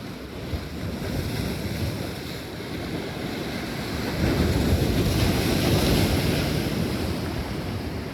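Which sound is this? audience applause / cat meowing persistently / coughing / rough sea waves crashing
rough sea waves crashing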